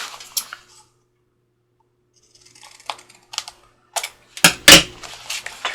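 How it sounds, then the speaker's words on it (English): Scissors snipping the corners of paper tags shaped with a template cut from an old Hobby Lobby gift card, a few short crisp cuts separated by pauses, close and alone. "So I'm just going to cut those corners there."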